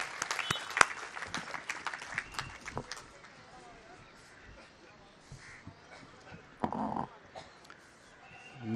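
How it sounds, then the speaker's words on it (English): Audience applause at a Supreme Court Bar Association farewell function, scattered claps fading over the first few seconds into quieter room sounds, with speech heard afterward. "Can we have a round of applause"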